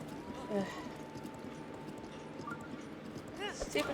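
A horse galloping in the Zelda: Breath of the Wild video game, soft rhythmic hoofbeats under a steady game soundscape with faint musical tones, fairly quiet and continuous.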